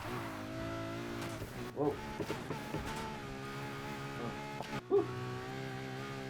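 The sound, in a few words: Ferrari gear-change pop and engine in Need for Speed Heat video game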